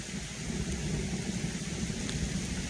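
Rain falls as a steady, even hiss on a backpacking trail loop in Adirondack Park, with a deep low rumble underneath and no talking.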